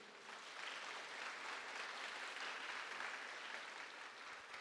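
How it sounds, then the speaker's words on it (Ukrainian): Sustained audience applause at an urban forum lecture, broad and steady, heard from the room at moderate distance with no talking. "Оплески для Катрін."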